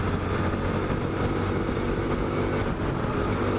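A Honda CT125 Hunter Cub motorcycle runs at speed on a motorway with a steady, loud engine drone and wind noise, and no distinct breaks between gear changes.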